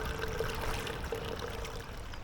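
Lake water from Loch Ness poured into a tap water filter at a lakeside camp, a steady close trickling stream running throughout with no talk.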